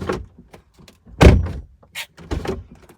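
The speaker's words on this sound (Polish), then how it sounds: "przed tym test zamykania drzwi" Frameless door on a used Audi A5 Sportback 2.0 TDI S-tronic swung shut with one solid thunk, preceded by faint handling clicks and followed by lighter rattles and a softer knock close by.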